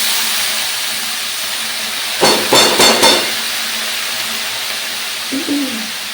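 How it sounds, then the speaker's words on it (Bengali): Leafy greens (saag) dropped into a hot pan, giving a steady sizzling hiss throughout with a louder burst of crackling as they land, then settling back to a constant fry. "এরপর শাক দিয়ে দিচ্ছি"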